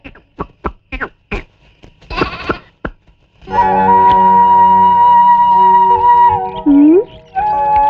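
A goat bleats in a loud, wavering, sustained cry that slides in pitch near the end. It follows a run of sharp knocks and clatters.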